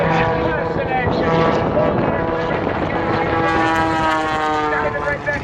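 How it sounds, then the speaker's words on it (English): An aerobatic airplane engine roars and drones continuously during Skip Stewart's air show routine as the plane rocks and rolls. The sound is loud and wind-buffeted, with a pitch that shifts slightly, and an announcer talks over it. "And now he keeps that airplane rocking, keeps it rolling."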